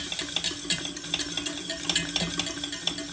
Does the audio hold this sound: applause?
no